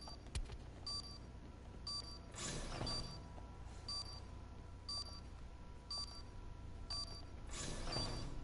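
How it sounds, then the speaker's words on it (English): Planted bomb in a competitive shooter beeping steadily, about once per second, in short bright electronic pips that repeat at an even pace over a low hum of game ambience, with a brief rushing swell partway through. "The bomb has been planted."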